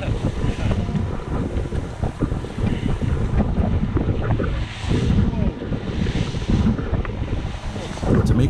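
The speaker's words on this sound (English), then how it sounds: "The wind and waves are slowly but certainly building more as we reach the island of Noorderhout" Wind buffets the microphone over steady rushing water and breaking waves as a sailboat beats upwind off the Dutch coast near Texel and Vlieland in strong winds, the roar continuous and loud with periodic surges.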